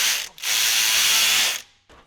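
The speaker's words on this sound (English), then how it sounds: "this marvelous little tool here, 10mm from Matco, pinless swivel" A 10mm pinless swivel ratchet from Matco clicks in quick, continuous bursts as it turns a bolt while a timing cover goes back on a 5.3L Silverado engine. It is loud and close, with a brief pause and then a short final burst.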